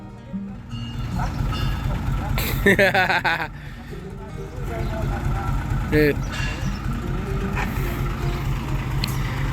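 A three-ton ten-wheeler truck pulls in with its engine idling low and a rhythmic reversing beep, heard under steady talk by a man at a scrap-buying yard.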